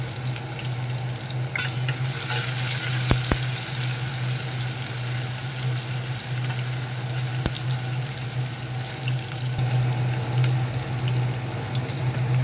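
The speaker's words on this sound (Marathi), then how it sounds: "आता इथे मी फोडणीसाठी हा कांदा घेतला अर्धा कांदा घेतला आहे अर्धा टॉमॅटो घेतला आहे हे व्यवस्थित भाजून घ्यायचं आहे ब्राऊन होईपर्यंत" Half an onion and half a tomato frying in oil until browned for a tempering, a continuous loud close sizzle with a steady low hum and a few sharp clicks and scrapes.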